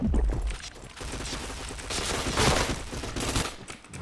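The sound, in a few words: gunfire in a shooting video game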